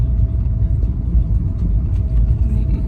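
A car engine rumbles steadily and loudly from inside the moving vehicle, a dense low drone with faint higher clatter and no clear revving.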